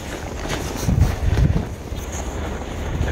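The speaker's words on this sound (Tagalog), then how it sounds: "ang lakas ng hangin" Strong winter storm wind with heavy snowfall in Canada roars and buffets the microphone in heavy gusts, with rumbling low noise swelling and easing throughout.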